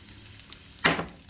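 Chicken fried rice with cold rice, salt and white pepper stirred in a hot pan, a quiet background hiss broken by one sharp, bright sizzling burst near the end.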